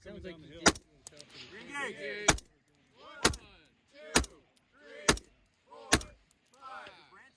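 Rifle shots on a gas gun shooting match stage, about seven sharp cracks fired in a steady paced string, each followed by ringing echo and distant metallic hits, with faint talk in between.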